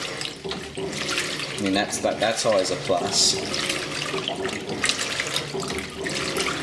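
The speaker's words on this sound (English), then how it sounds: "you'd actually get full agitation speed, which is this" A 2002 Kelvinator K605 washing machine agitates at full speed on a regular cycle with a load of colors, giving a steady churning slosh of water that continues throughout while someone talks over it.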